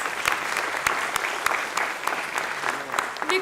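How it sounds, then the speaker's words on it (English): Audience applause at a student book launch during a talk on good citizenship, dense steady clapping with sharp individual claps standing out, fairly close and continuous. "A big round of applause."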